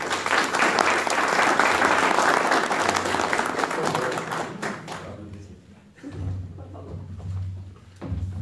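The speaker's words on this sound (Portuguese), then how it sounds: "vamos a recibir a Fernando Carvalho con un fuerte aplauso" An audience at a university conference in Quito applauds to welcome a speaker, a dense roar of clapping for about five seconds that thins out and fades, leaving low murmurs and room noise.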